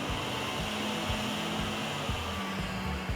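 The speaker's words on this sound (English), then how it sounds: "This button with the fan here will turn on your vacuum motor, and that is what is going to produce the suction to pick up your dirty water off the floor." The vacuum motor of an ACE 26T walk-behind commercial floor scrubber runs with a steady whirring drone and a faint tonal hum, close and continuous, with a few low knocks in the background.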